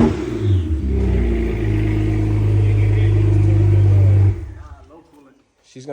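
A loud V8 exhaust from an LS-swapped BMW 1 Series with its mufflers removed and resonators fitted revs hard for about four seconds, then drops back to a rough idle close by, with voices in the background.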